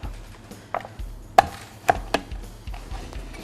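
Sharp knife strikes on a board as a cook cuts broiler chicken into pieces for a jelly mushroom soup, about half a dozen irregular chops, the loudest few crisp and close, with quieter taps between.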